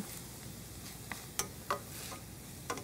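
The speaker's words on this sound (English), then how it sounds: "we're going to saute that. This is sounding good." Barley and vegetables browning in a pan give a faint, steady sizzle, broken by a few soft clicks and stirring scrapes, close by and with no one talking.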